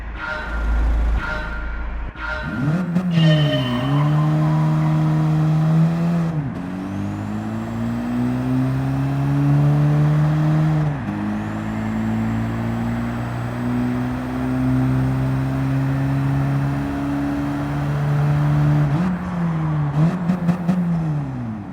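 Simulated race car from the Gran Turismo 7 game, a Mitsubishi GTO, revving with a steady engine drone that climbs through several gear changes, loud and close, with no talking.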